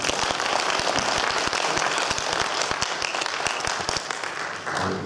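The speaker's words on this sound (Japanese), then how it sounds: "拍手をお願いいただければと思います" An audience claps through a member introduction at a band or ensemble event, loud dense applause with a few sharp, separate claps standing out, steady throughout and tapering slightly near the end.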